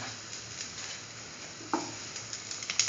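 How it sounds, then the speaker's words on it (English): Food frying in a pan gives a faint, steady sizzle, with a few light stirring taps and crackles near the end. "Let it fry."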